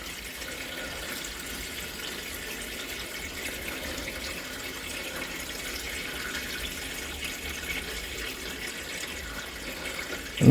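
Water runs steadily into a garden pond's bottom drain, a constant soft hiss and trickle lasting about ten seconds, heard alone and ending in a brief knock.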